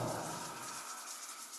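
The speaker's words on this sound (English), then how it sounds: "Rub the palms together." Palms rub together briskly during a qigong exercise, making a steady, close, breathy swishing hiss for under two seconds with no voice.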